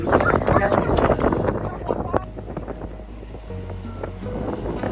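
Strong wind buffets the microphone outdoors in Patagonia near the Paine River falls, roaring and gusting loudest at first then easing, with people talking over it.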